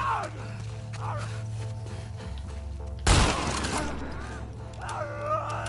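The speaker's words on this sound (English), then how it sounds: "Two shots." A gunshot rings out in the video game The Last of Us, one sharp loud blast midway over steady game ambience, with faint talk around it.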